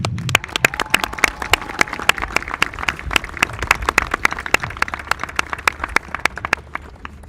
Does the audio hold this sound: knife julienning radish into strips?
no